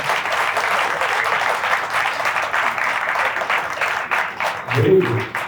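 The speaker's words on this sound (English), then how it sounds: "So applaud for yourself." Seminar audience applauding themselves, loud close clapping from many hands that thins out near the end as a voice comes in.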